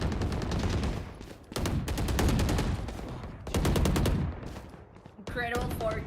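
Rapid bursts of automatic gunfire from the shooter game Valorant, loud and close, broken by short pauses, with a brief voice near the end.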